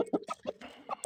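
A rooster, a lively young cockerel of a Chinese breed kept as a fighting bird, gives a quick run of short, choppy clucks in uneven bursts, close and fairly clear.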